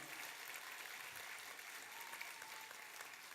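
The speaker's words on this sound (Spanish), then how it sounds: "Podemos darle un fuerte aplauso a eso." A church congregation claps steadily and densely throughout, a sustained wash of applause without any pauses.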